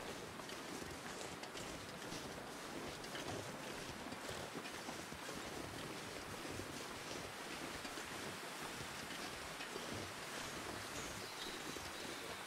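Wind blowing across an outdoor wilderness area in the survival game The Long Dark: a steady, dense, broadband rush that never lets up, filling the whole stretch with no voices.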